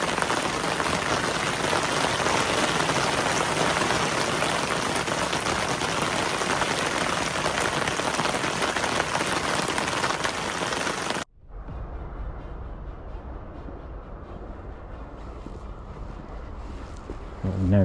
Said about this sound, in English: Played that fishing in the pouring rain.